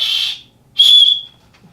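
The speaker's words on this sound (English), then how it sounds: "which in this case actually has a little whistle on it" A small whistle built into the sternum strap of a hydration pack is blown twice, each time as a short, loud, shrill blast, with a brief pause between them.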